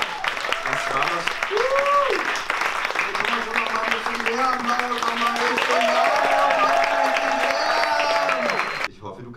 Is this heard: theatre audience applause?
yes